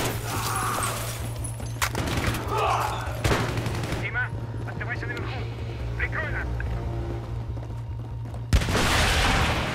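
Gunfire in the video game Battlefield 3 comes as rapid bursts and loud shots, with quieter stretches in between and a sharp blast near the end, while a voice talks over parts of it.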